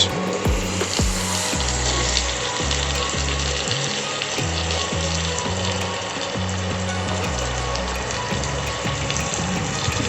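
Two medium diced onions fry in a pan for chilli cauliflower, a steady close sizzle that lasts throughout, with a low rhythmic background beneath it.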